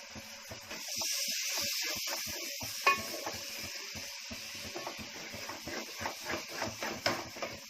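Tomatoes hitting hot frying masala in a pan for chicken curry give a steady close hiss and sizzle, with soft stirring scrapes growing more rhythmic toward the end.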